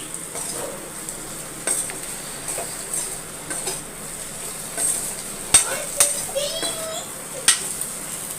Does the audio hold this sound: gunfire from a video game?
no